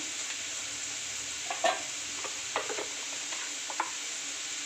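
Potato fry in a pan with coriander powder and masala being added, a soft steady sizzle under a few distinct scraping stirs and clinks of the spatula, no voices.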